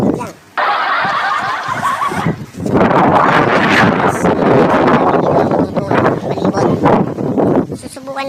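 Strong gusts of wind buffet the microphone at a construction site where hollow concrete blocks are being laid, producing loud, continuous roaring bursts, with a brief break before the blowing resumes.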